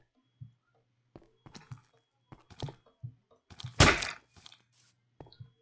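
A single gunshot fired in the Minecraft mod The Mining Dead: one loud, broad burst in the middle of scattered thumps and clicks of game movement, with no talking over it.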